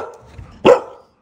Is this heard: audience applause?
no